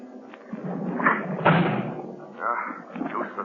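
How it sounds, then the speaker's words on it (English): Heavy thuds and crashing blows against a vault door in an old radio drama, several forceful impacts with scraping and rattling in between, close and loud, with a voice straining alongside. "I'm going to try to break down the door."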